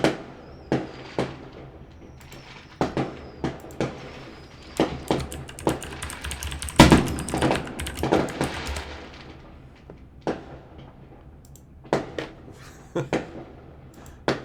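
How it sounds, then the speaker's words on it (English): Canada Day fireworks bursting outdoors, a steady run of sharp booms and crackles at varying distances, with one dense cluster of rapid overlapping blasts in the middle before the bangs thin out again. "I want you guys to be able to hear all the fireworks"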